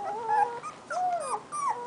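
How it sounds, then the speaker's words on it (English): Young puppies whimper outdoors on their first day outside, giving high, thin, rising-and-falling whines in three short bursts close by, with no talking. "Hi puppies!"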